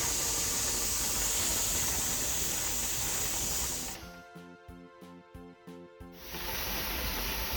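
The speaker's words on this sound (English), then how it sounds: "our steam valve is up and we're getting steady stream of steam out of the vent" Steam hisses loudly and steadily from the vent of a Presto pressure canner, briefly dropping to a few soft rhythmic puffs before the broadband hiss returns at full strength.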